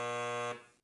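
A software meter in MakerPlot gives off a short electronic alarm buzz, one steady harmonic-rich tone lasting about half a second before it fades and cuts off.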